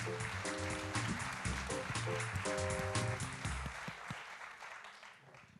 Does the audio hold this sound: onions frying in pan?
no